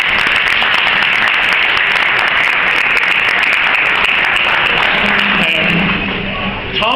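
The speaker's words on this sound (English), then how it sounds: "I think everybody should give a round of applause for Antoinette" Steady, dense applause from an audience at a book launch at a venue on Dame Street in Dublin, filling the room loudly and evenly before tapering slightly near the end, with some voices mixed in.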